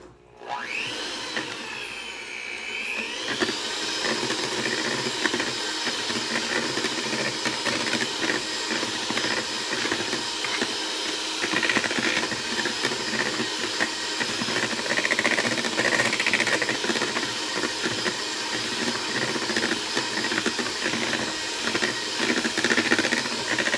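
Keto cookie dough being mixed after salt is added, a steady loud whirring motor drone that runs continuously and alone, with a slight scraping texture over its constant hum.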